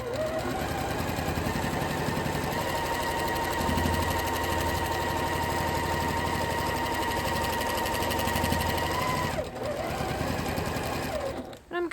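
A sewing machine fitted with a walking foot quilts gentle wavy lines at a slow pace, a loud, close, steady mechanical chatter running almost twelve seconds before briefly pausing near the end.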